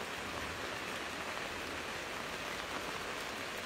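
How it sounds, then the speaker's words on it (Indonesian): Steady rain falls on Jalan Andi Makassau in Mamuju, a dense, even hiss of drops hitting the street that holds constant throughout with no voices. "Nampak hujan masih awet dari tadi malam sampai saat ini."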